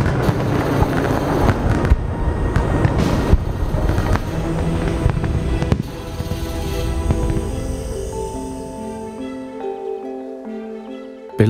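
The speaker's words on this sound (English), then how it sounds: "The rockets are fired and the crackers touched off." Rockets and firecrackers at a festival in Angkor, Cambodia, burst in a dense loud crackling barrage, then give way to booming and fading rumble with tonal hum near the end.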